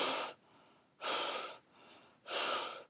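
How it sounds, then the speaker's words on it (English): A person breathes angrily in three heavy, forceful huffs spaced about a second apart, each a close, loud rush of air with quieter intakes between; a voice making the sound, no words spoken. "I will stand directly behind them and just breathe angrily"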